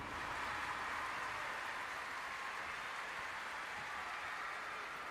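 Steady applause from a large arena crowd after a dive at the London 2012 Olympic diving event, sustained and even throughout, with no pauses or distinct voices standing out.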